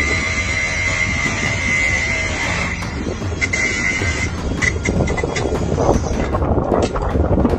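Strong wind buffets a microphone outdoors around moped thieves, a continuous rough roar with gusting bursts throughout and no speech.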